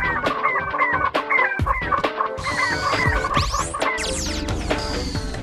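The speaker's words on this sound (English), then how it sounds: "Oh my god, look at all the chickens." Chickens cluck and crow in dense overlapping calls in the Ratchet and Clank game's Gadgetron site level, loud and close, with electronic game tones and sweeping effects layered underneath.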